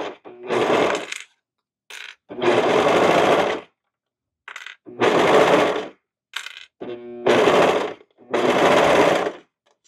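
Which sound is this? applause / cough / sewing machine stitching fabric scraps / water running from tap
sewing machine stitching fabric scraps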